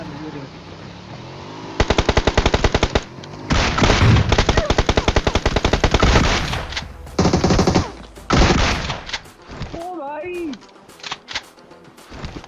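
Loud automatic gunfire in the BGMI battle royale game, rattling in long rapid bursts separated by brief gaps, with other game sounds in the background and a voice toward the end.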